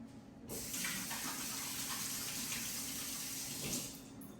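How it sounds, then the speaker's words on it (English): Kitchen tap water runs steadily into a sink during hand washing, a close, even rushing stream that starts abruptly and holds until cut off near the end. "Now, let me wash my hands."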